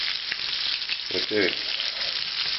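Pieces of beef browning in a pan for brown beef stock, a constant close sizzle with a short spoken word over it.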